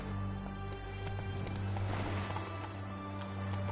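Roach the horse gallops in The Witcher 3, giving steady rhythmic hoofbeats at a fairly faint level over a constant game background, with no talk.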